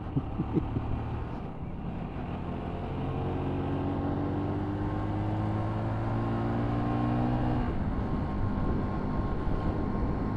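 A motorbike engine revs and accelerates steadily, its rising harmonic drone loud and continuous throughout, with a brief drop before climbing again and no talking.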